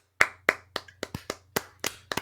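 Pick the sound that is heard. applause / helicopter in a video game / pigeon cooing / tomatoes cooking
applause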